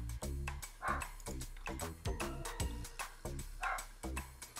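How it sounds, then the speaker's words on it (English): A pet dog barks repeatedly and close by, sharp loud yaps in a fast irregular series over steady background noise, with no speech. "Man, that dog is driving me nuts."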